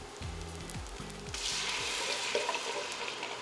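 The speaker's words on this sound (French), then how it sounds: "c'est le petit cisaillement du liquide qui vient de toucher le fond de poêle" Coconut milk hitting a very hot pan to deglaze it, setting off a steady broad sizzle that swells after the first second and holds close and fairly loud, with a few low knocks early on.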